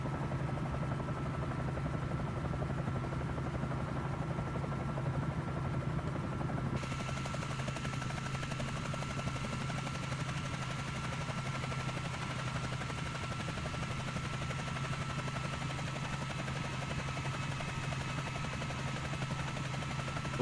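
Bell 47J Ranger helicopter in Microsoft Flight Simulator, its engine and rotor giving a steady, continuous drone with a low throbbing hum that holds evenly throughout, with no voices over it.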